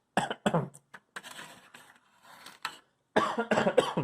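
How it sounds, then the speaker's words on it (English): Several harsh coughs and throat-clearing bursts up close, with a quieter rustling stretch in between before another loud cluster of coughing. "I'm coughing up my lunch"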